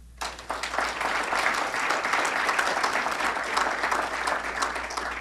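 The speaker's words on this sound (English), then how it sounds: "deserves a clap" Hall applause at a scholarship awards dinner, a crowd of hands clapping steadily at moderate volume, starting abruptly and holding evenly for several seconds.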